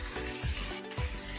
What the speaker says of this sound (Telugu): కట్ చేసుకున్న ఆనియన్ ముక్కలు వేసుకోవాలి. అదేవిధంగా టమాటా చిన్న సైజులో 2 చిన్న టమాటాలు తీసుకోవాలి. రెండింటిని కొంచెం ఫ్రై చేసుకోవాలి.